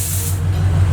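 Air suspension on a widebody Subaru BRZ dumps air with a loud, steady hiss close by that holds for the full moment, strongest at the start.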